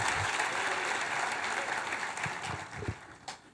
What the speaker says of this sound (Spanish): Y ese aplauso para el Señor, que se oiga en los cielos.